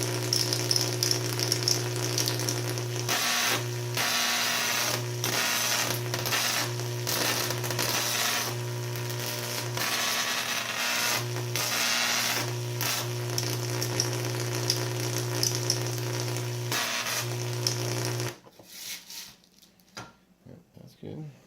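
Classroom Tesla coil circuit running on a test bench, giving a loud, steady buzzing hum with crackling sizzle that keeps going for about eighteen seconds before cutting off abruptly, leaving quiet handling sounds.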